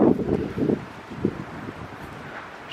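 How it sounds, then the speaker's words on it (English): Outdoor wind buffets the microphone in Crewe, giving a few low rumbling gusts at the start, a single brief thump a moment later, then a quieter stretch. "She's suffering a bit with the wind."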